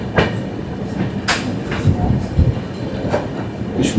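Kanchankanya Express, a first-class AC coach, rolling on rails with a steady low rumble and periodic clickety-clack wheel beats, heard from close by inside the carriage.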